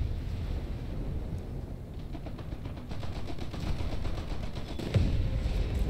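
A warship fires naval gun broadsides in a naval battle video game, a rapid rattle of repeated reports over a low rumbling background, with one heavier boom near the end.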